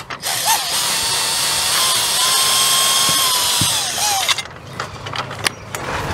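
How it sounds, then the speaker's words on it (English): Power drill or driver backing screws out of patio awning rafters, a loud high whine running steadily for about four seconds with slight pitch dips, then stopping, followed by scattered knocks and clanks of handling the hardware. "we'll start by getting the screws out of these upper rafters up here"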